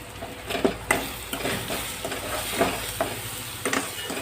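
Pork pickle with salt, red chili and cumin powder frying in oil, a soft continuous sizzle broken by repeated scraping stirs of a spoon in the pan at an uneven rhythm, close and alone.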